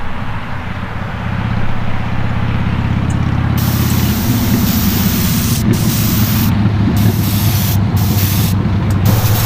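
A spray gun lays a second coat of paint on the body of a custom 1955 Chevy gasser: a low hum gives way to a loud, steady broadband hiss that continues without talk.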